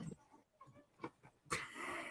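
A dog growling while tussling over a fetched toy with another dog: low, rough throaty rumbles and breathy snorts come close and fairly quiet, ending in a longer harsh breathy burst.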